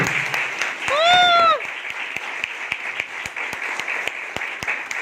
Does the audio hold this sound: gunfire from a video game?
no